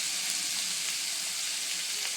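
Snake gourd fries in a pan, with salt and turmeric about to go in, giving a constant, dense sizzle close by and a light stir or two.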